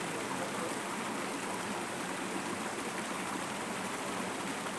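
Flowing water of a stream, a steady, dense rushing wash heard close and continuous with no change in level.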